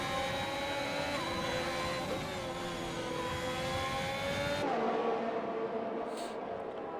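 In F1 2021, a race car engine drones steadily as it enters the pits during a league race replay at the Netherlands circuit, a loud continuous whine that drops in pitch partway through.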